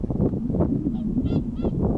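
A flock of geese honks while flying overhead, heading south on a snowy day near Kostanay. A few nasal calls come from the middle distance over a steady low rumble of wind.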